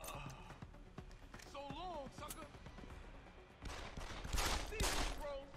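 Gunfire in the PC game Deus Ex: Human Revolution, a few sharp shots and a louder burst near the end, mixed with game effects and someone talking over the action.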